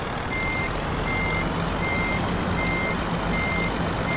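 A truck in Euro Truck Simulator 2 backs up, its reversing alarm beeping in a regular repeating pattern over a loud constant engine drone.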